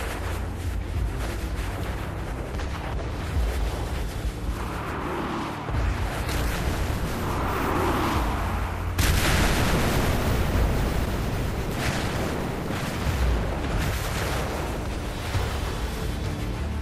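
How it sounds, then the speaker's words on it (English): Eighteen-inch main guns of the battleship Yamato fire on US Navy ships in a WWII engagement, with heavy booming blasts and sustained loud rumbling roar, distant and dense, with no voices. "The Yamato opens fire on the US Navy."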